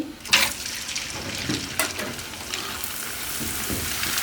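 Crackers dropped a few at a time into very hot oil crackle and sizzle steadily, with a sharper pop near the start and a few bubbling surges, close and fairly loud.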